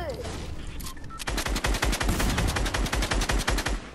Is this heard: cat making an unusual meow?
no